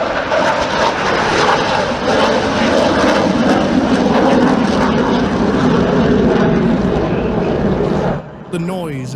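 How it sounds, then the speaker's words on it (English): Loud, roaring noise from a Eurofighter Typhoon's two EJ-200 jet engines sweeping overhead at a beach airshow in Torre del Mar, dominating the scene before dropping away sharply near the end, with faint voices in the background. "The noise of its 2 powerful EJ-200 engines shook the beach."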